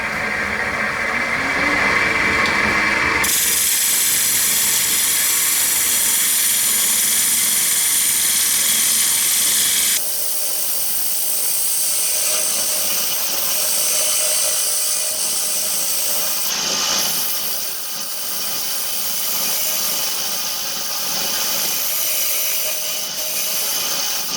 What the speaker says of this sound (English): I'm going to use my scraper